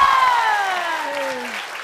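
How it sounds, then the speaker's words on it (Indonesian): Studio audience on a comedy variety show claps for Pasha, a short burst of applause under a descending musical sting. "Tepuk tangan dulu dong untuk Pasha."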